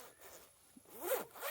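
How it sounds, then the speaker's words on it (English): The full-length two-way zip on a Fjällräven Greenland Winter Jacket is pulled, giving a quiet, close, rasping zipper run with a couple of short strokes over about a second and a half. "zip, full-length zip,"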